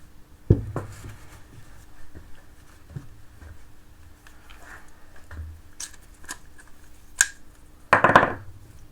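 Metal keys are tapped into keyways on e-kart axle drive hubs in a quiet workshop, giving a few sharp, isolated knocks spread apart, with a louder cluster of taps near the end.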